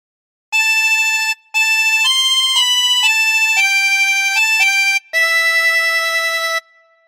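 A 24-hole tremolo harmonica plays a short melody from "Silent Night" in sustained reedy notes with brief breaths between phrases, bright and close, with no other sounds.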